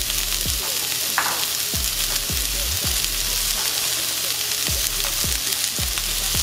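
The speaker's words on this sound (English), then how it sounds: "I'm gonna cook our onions for about 3 to 4 minutes." Onions fry in oil in a wok over medium-high heat: a continuous loud sizzle, broken by repeated low scraping thumps as they are stirred about.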